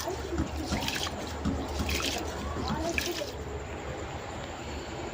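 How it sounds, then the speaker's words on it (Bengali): Rice is washed by hand in a pot of water, a steady close sloshing and trickling that runs on without a break. "কথা বলতে বলতে চালটা ধুয়ে নিয়েছি।"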